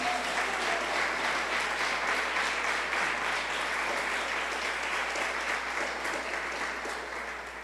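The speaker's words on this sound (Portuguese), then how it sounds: "Quem concorda, aplauda a Jesus Cristo." A church congregation applauds steadily and densely for several seconds, a full even roar of clapping that eases slightly toward the end, with no voices over it.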